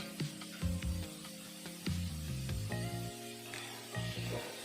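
Onions frying in a pan for a bitter gourd (kakarakaya) fry make a steady sizzle, with clinks and scrapes of stirring through it and no voice.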